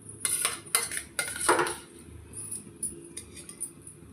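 A metal spoon stirs mashed potato into pav bhaji in a pan with quick scraping clinks, several close strokes at first and then lighter, scattered taps.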